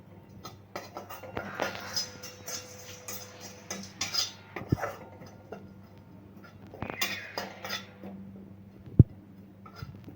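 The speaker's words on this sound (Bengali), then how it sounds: "তাই আমি গ্যাসের ফ্লেমটা বন্ধ করে দিয়ে এমনি নাড়াচাড়া করছি" Mutton masala is stirred in a kadai with the gas flame switched off, giving scattered metallic clinks and scrapes of a spoon against the pan, some sharp and close, with quiet gaps between.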